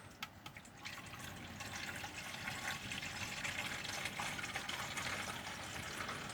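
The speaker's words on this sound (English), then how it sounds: "I'm sure you've seen water pouring into a bottle before" Water pours steadily into a plastic fertilizer bottle, a soft continuous splashing fill heard quietly and alone for several seconds.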